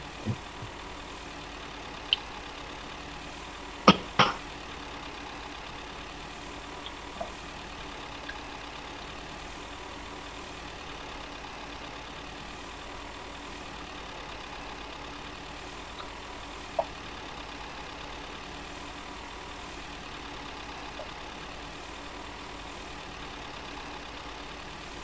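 In Farming Simulator 2013, a tractor engine idles as a faint, steady low drone, broken by a few quiet clicks near the start.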